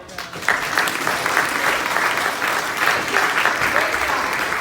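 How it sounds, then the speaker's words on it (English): A church audience claps for the puppeteers after a puppet show, a sudden burst of many hands that swells quickly and keeps going evenly, fairly close and loud. "can you give our puppeteers a clap?"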